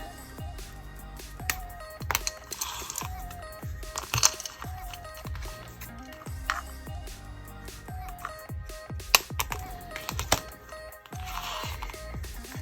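Small scissors trim the plastic scalp of a custom Blythe doll, making close crunchy snips at irregular intervals, each cut a sharp crisp click over quiet room tone.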